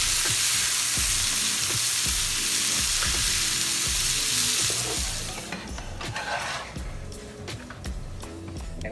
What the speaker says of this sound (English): we're going to sear these off on both sides and let them finish off in the oven